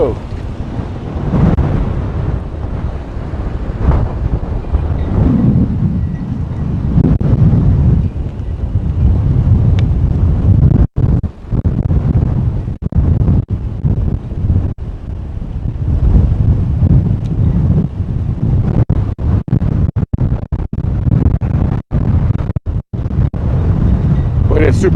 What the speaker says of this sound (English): Boy, it's super windy out here, guys.